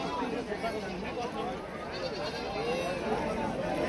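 Goats at a livestock market bleat repeatedly, wavering calls rising and falling over a busy background of crowd chatter and people talking nearby.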